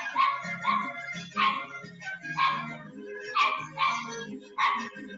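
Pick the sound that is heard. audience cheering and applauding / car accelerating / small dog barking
small dog barking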